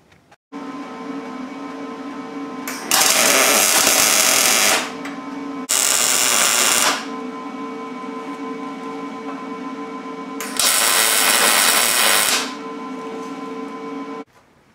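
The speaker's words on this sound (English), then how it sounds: "let's go ahead and tack these into place" Tack welding brackets for a four-link suspension on a Jeep TJ: three bursts of loud, crackling arc noise, about one to two seconds each, separated by a steady humming drone.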